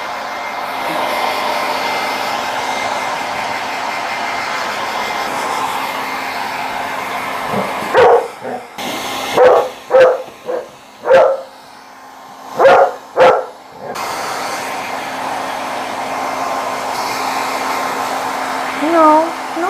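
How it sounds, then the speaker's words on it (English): A small hand dryer blows steadily on a Saint Berdoodle dog being groomed after a bath. The whoosh pauses around the middle while the dog gives several loud barks, then the blowing resumes. "go over her with the little hand dryer"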